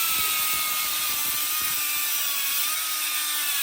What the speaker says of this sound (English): we got our whiz wheel, and we are going to cut off all of these little studs sticking out